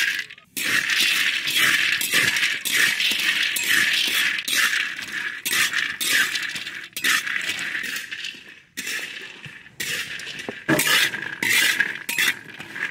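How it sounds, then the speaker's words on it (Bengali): Cashews and white sesame dry-roast in a pan, giving a steady, close rattling clatter of hard bits stirred against metal, with brief gaps and sharper clinks throughout. "শুকনো খোলাতে কাজুগুলো আগে ভেজে নেব।"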